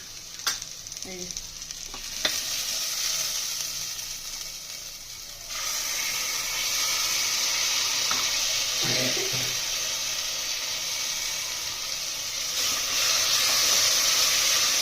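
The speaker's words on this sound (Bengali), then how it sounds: "সবজিগুলো ভাজা ভাজা হয়ে গেছে মশলার পেস্টটা দিয়ে দেবো" Spice paste goes into a pan of frying vegetables for veg polao, producing a steady sizzle and hiss that grows slightly fuller after a few seconds, with faint clinks from stirring.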